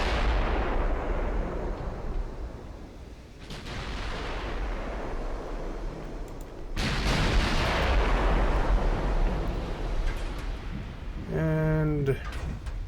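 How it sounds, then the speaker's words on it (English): Heavy naval guns from a US super battleship fire broadside salvos in Ultimate Admiral Dreadnoughts: deep booming blasts with long rumbling decay, a fresh loud volley partway through, and a short whistling tone near the end. "So I'll give me broadsides on it for a little bit."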